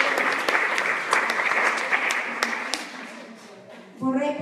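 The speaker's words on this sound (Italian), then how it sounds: "Un applauso per loro." A congregation at a Sunday school service in an Italian evangelical church claps together in warm, sustained applause that fades out, and a voice starts speaking at the end.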